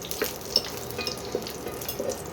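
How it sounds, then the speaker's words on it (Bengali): Bori, small sun-dried lentil dumplings, fry in hot oil, giving a soft steady crackle with light stirring taps and a few brief louder pops, close and moderately quiet, with no voices. "যে বড়িগুলো দিয়ে করব রান্নাটা, সেই বড়িগুলো একটু ভেজে নেব।"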